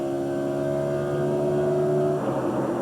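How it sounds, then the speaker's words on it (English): A powerful stock race car at the 2000 Checker Auto Parts Dura Lube 500K roars down the straightaway. Its loud, sustained engine note holds steady, then breaks into a rougher, noisier blare near the end, with no voices. "You want to hear a good race car go down the straightaway"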